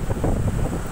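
Strong wind outdoors in Tagaytay buffets the microphone in a steady, roaring rush with no voices.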